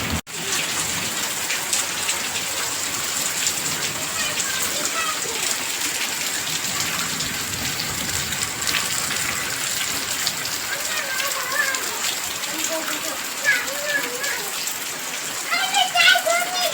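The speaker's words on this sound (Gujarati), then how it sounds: "અમારે અહીંયા વરસાદ ચાલુ થઈ ગયો છે" Heavy monsoon rain pours steadily and densely throughout, a continuous hiss of drops on surfaces, with faint children's voices and chatter in the background.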